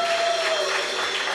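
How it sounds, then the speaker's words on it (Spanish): A church congregation breaks into a short burst of steady applause, a dense even wash of clapping that fills the whole moment with no voices standing out. "Dale ese aplauso al Señor."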